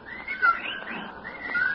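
Birds calling in an old suspense radio drama, thin whistled chirps repeating over a faint background with no voices.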